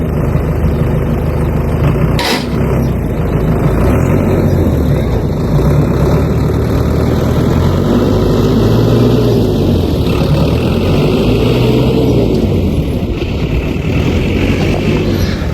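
A Tümosan tractor engine, an 8175 or a 6570, drones and revs hard at a tractor pulling contest, with a loud sustained low rumble and rising and falling pitch as it strains. One sharp knock stands out briefly near the start.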